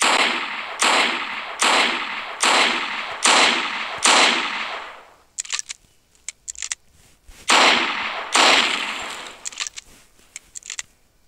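An SMG fires in the Hypper Sandbox game in rapid, loud bursts, about five long sprays in quick succession, a pause with scattered clicks and single shots, then another long burst.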